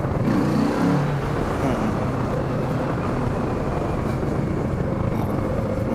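A Kawasaki Z650 motorcycle accelerating on a road, its engine a steady, sustained drone mixed with rushing wind, fairly loud and unbroken throughout without clear gear changes.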